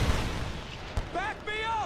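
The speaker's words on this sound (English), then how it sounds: "Suppressing fire!" Gunfire in the Metal Gear Solid 4 video game: a low, continuous battlefield rumble with one sharp shot near the middle, under a loud shouted voice.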